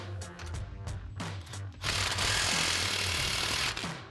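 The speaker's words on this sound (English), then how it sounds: "Then we'll grab our 15 mil socket on our impact and just snug this clamp down." A few short mechanical rattles, then a loud, sustained hammering burst of about two seconds as an impact wrench with a 15 mm socket snugs an exhaust clamp on an MBRP Armor Lite dual exhaust for a 2019-2024 Silverado/Sierra 1500.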